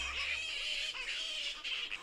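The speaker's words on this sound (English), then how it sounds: "We're here amongst a bunch of fruit bats, also called flying foxes." Shrill, overlapping squawks and chattering calls from a noisy roosting colony of fruit bats (flying foxes) in trees in the East Kimberley, fairly close and continuous.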